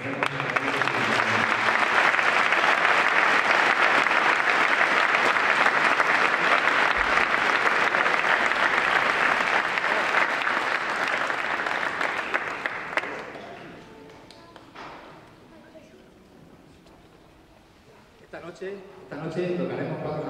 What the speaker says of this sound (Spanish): me gustaría que le damos un fuerte aplauso a los que han estado